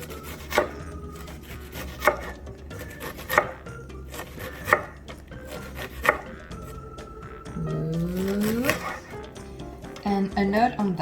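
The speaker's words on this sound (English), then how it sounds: "And then we nicely chop it really" Onion being chopped finely on a chopping board for a gluten-free winter soup, a run of about five sharp, evenly spaced knife thuds followed by quicker, rougher cutting with some background noise.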